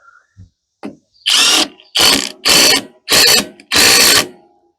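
Five loud, evenly spaced bursts of an air impact tool tightening bolts on a Kohler 12.5 HP engine in a John Deere STX38 tractor, preceded by a few soft clicks.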